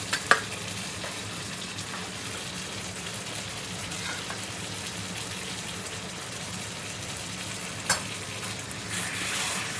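Chilies frying in a pan of simple chicken biryani, a steady close crackling sizzle like rain on a surface, with a couple of sharp clinks near the start and a brief scrape later.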